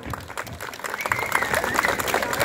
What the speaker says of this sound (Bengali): হাততালিটা আরো একটু হোক